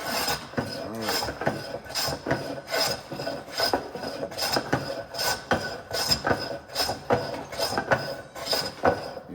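A cooper's shave planes the edges of a wooden board in repeated rasping strokes, roughly a dozen short scrapes in an uneven rhythm, close and clear with no talking.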